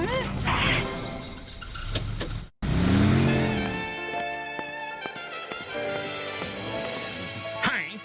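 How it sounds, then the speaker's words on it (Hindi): A cartoon car engine revving and driving in reverse gear, loud and close, with a clattery whine and a brief cutout midway, while animated characters talk over it. "गाड़ी खराब है, आगे जाने के बदले पीछे जाता है।"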